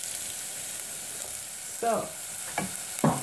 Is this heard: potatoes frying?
yes